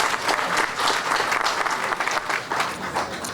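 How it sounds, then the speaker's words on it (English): A civic crowd at a community reclamation campaign event claps enthusiastically, a thick, continuous roar of hand claps from many people, close and even throughout with no speech over it. "Let's give them a applause."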